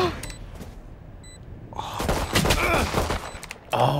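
Gunfire in Valorant during a 1v1 tournament round: bursts of rapid shots build from about midway and continue to the end, loud and punchy, with quieter game ambience and a few faint shots before them.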